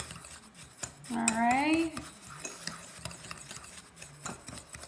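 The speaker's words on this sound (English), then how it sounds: "we're going to use our fork and we are gonna stir again really good to get that all mixed up" A fork stirs a bath bomb mixture with essential oils in a bowl, making quick, light metallic clinks and scrapes throughout. A short spoken phrase comes in between.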